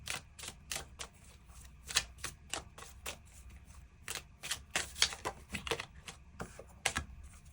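Tarot cards being shuffled by hand to draw an extra card, a quick run of crisp riffling flicks and taps repeating close up, with no voices.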